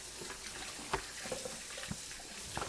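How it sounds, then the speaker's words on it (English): Water from a kitchen sink faucet runs steadily as hands are rinsed beneath it, a soft, fairly faint even hiss with a few light splashes, no voices. "I'm going to rinse my hands off a little bit here."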